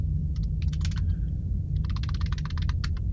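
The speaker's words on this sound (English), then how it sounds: "I'm getting faster at typing these things." Close, crisp clicks of a computer keyboard as commands are typed for the game Duskers, in two quick bursts separated by a short pause, over a low steady hum.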